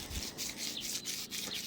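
Coarse sandpaper rubbed back and forth along the edge of a flint stone, close and quiet, in quick rhythmic gritty strokes.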